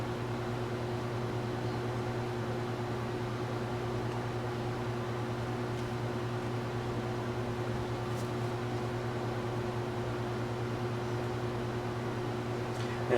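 Steady air conditioner and fan hum filling a hot model-building workshop, a constant tonal drone with broadband airflow hiss, unchanging and alone for the whole stretch.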